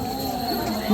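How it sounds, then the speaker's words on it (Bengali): Crickets chirping at night along a temple path at the Mayapur Jhulan festival, a steady high insect trill continuing under a low hum of distant crowd murmur and voices. "আর সাথে ঝিঝি পোকার ডাক"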